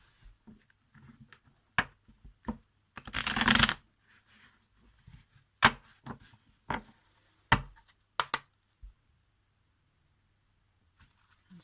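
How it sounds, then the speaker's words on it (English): A deck of tarot cards is shuffled by hand in short, crisp bursts, with one longer riffle in the middle and scattered soft card taps in a quiet room. "I have pre-shuffled your cards, but some people do like to see them being shuffled on camera as well."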